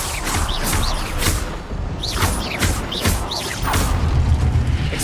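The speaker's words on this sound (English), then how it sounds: "Repulsor!" Spell effects burst out in the Hogwarts Legacy video game, where a Repulsor blast mixes into a dense run of booming, whooshing impacts and crashes repeating every half second or so, loud and close, with battle noise continuing underneath.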